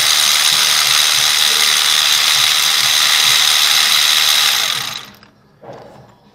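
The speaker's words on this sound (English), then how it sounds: "Pull the spark plug out." A ratchet wrench clicks rapidly and loudly while backing a spark plug out of a Kia engine. The clicking is steady and continuous for about five seconds, then stops abruptly and is followed by a faint rustle.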